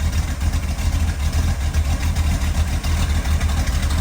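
A crate motor swapped into a car idles at operating temperature with a steady, deep low rumble, close and continuous throughout.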